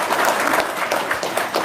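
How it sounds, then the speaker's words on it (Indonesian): Audience applause, a short, dense burst of clapping heard fairly close, continuous and even across its brief length. "tepuk tangan dong, luar biasa"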